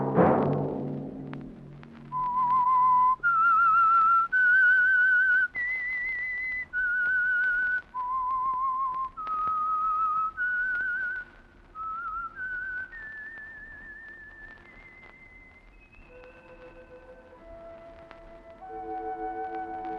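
A lone whistler performs the eerie theme of The Whistler radio program, a slow melody of clear, sustained notes rising and falling, with a soft orchestral bed entering near the end.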